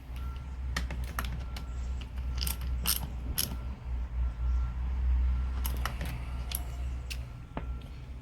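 Ratchet-style clicking while screws are tightened with a ball-end Allen key on a Husqvarna 435 X-torq chainsaw carburetor: sharp metallic clicks in irregular bursts over a steady low hum, close and loud, with no talk.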